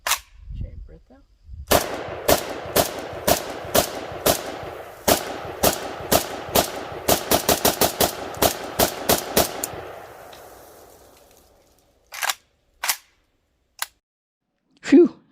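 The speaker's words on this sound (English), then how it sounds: "Phew, there's a lot of shooting" A Bulgarian Arsenal SAM5 rifle with a 30-round magazine fires at an outdoor range in a long string of sharp, loud shots at an uneven rapid pace, followed by a few scattered shots after a pause.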